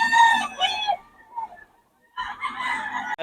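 Chickens and a rooster at a rainy live-animal market in Bocaue sound off close by, a loud crow and clucks, then a short lull before more crowing, with no talking.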